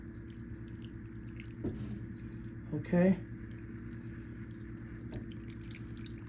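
Flour-and-water gravy is poured around a pot roast in a cooking pot, giving soft, faint liquid splashes and squishy drips over a low kitchen hum, with a person talking.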